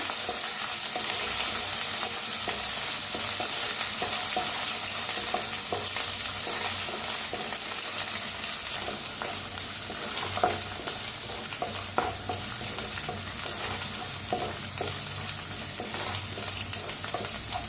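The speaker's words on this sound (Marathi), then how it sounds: "गॅस एकदम बारीक करा. बारीक करूनच भाजा सगळं मसाला." Ground masala spices with curry leaves roasting in a pan over very low gas, a steady close sizzle and crackle with continuous scraping from stirring throughout.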